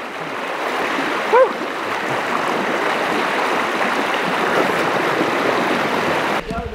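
Steady rushing creek water at Birdie Creek on the Telegraph Track in Cape York, a continuous close broadband flow with a brief faint voice-like sound partway through.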